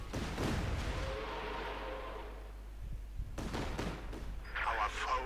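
Katyusha rocket artillery fire in the real-time strategy game Company of Heroes 2: a sustained roaring barrage with rumbling impacts, then fresh launches and blasts later on, beneath steady commentary talk.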